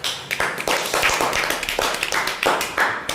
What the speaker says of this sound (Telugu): మళ్ళీ క్లాప్స్.